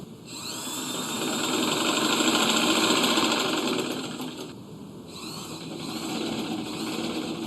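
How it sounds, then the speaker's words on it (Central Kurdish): A sewing machine running indoors, a steady mechanical whir with a fast rattling drive that rises and eases slightly as it runs, close and continuous, with no talking. "من مەکینەکەم هێنایە ئێرە سەرەتای داوام خۆم تستم کرد دەنگی نەڕۆشە دەرەوەی ژوورەکە"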